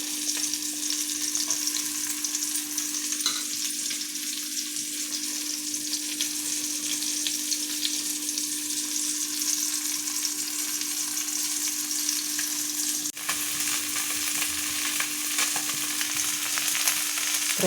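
Food sizzles steadily in a hot pan on a home stove, a continuous bright crackle with a constant hum in the background and no talking.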